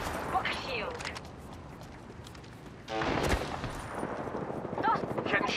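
Gunfire in the battle royale shooter Apex Legends, with rapid bursts of shots and impacts in two main clusters, mixed with game voice lines and in-game sound effects.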